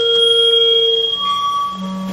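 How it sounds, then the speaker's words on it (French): Jammed radio signal noise: thin, steady electronic tones and whines drifting over a faint hiss, shifting in pitch partway through, sounding from somewhere in the woods, continuous with no talk. "Le bruit que vous entendez, Jones, c'est le son d'un signal radio qui est bloqué."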